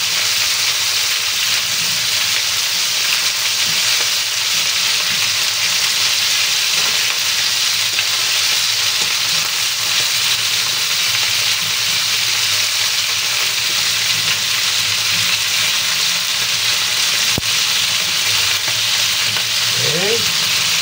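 Chicken pieces fry steadily in hot oil toward golden brown, a dense, continuous crackling sizzle close by and loud throughout, with a brief scrape of stirring near the end.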